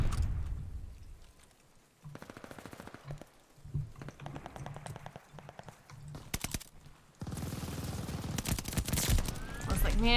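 Rapid shotgun fire in a video game, with dense bursts of loud shots and clattering impacts that swell and drop over ten seconds against a busy, noisy game soundscape.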